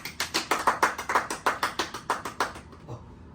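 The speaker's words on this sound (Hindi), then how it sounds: "जोरदार ताली हो जाए" Brisk applause fills an interview studio, a steady burst of roughly fifteen sharp claps from a small crowd that ends abruptly and leaves near silence.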